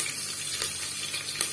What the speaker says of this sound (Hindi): उसके बाद हरी मिर्च डालेंगे।